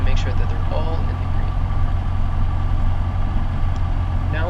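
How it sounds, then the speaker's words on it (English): A light training airplane's engine runs steadily just after start-up, a loud, constant low drone with a faint tonal whine throughout, unbroken for the whole stretch. "Now that the engine is running"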